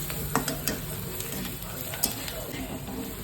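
A spoon scrapes and stirs coriander and chilli powder through a sizzling bread roll filling in a hot pan, with steady frying hiss and repeated close clinks of the utensil against the pan.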